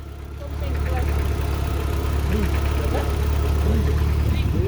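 Audi RS3 engine idling with a faint knock, a steady low rumble with light irregular ticking on top and a voice murmuring in the background.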